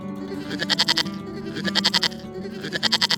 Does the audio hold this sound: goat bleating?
yes